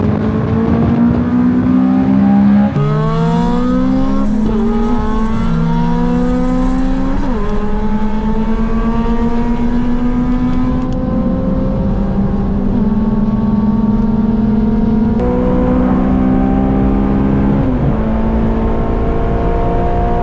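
A 320 BHP Ford Fiesta racing a 270 BHP Honda Civic with a K24 engine, loud engines climbing through repeated gear changes, each pitch rising then dropping at the shifts, sustained and close.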